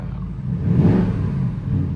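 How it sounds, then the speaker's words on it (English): A 2021 Porsche Cayenne GTS engine with an APR Stage 1 tune (628 HP) revs up with a rising, throaty rumble, swelling to a peak midway and holding a steady growl, close and moderately loud. "It revs up nicely. It has a good throaty sound to it."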